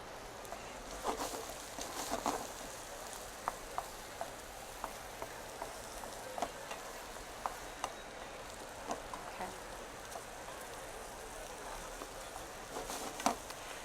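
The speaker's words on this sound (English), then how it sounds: "So we're going to saute these for about 5 to 7 minutes." Food sautes in a pan as a soft, steady sizzle runs throughout, broken by faint scattered pops and small clinks at close range.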